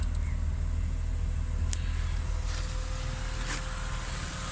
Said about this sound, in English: That's the aircon fan running.